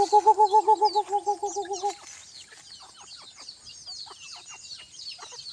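Bantam chickens on a hot evening, one bird giving a loud warbling, trembling crow for about two seconds, followed by scattered clucks and chirps from several birds at a distance.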